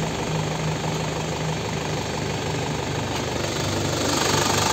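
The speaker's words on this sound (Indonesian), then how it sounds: "nah suaranya masih khas Panther banget" Diesel engine of a 1998 Isuzu Panther Sporty, 2.5 litres, running steadily at idle, a constant dense rumble with a faint knock and vibration, close and fairly loud, with no speech over it.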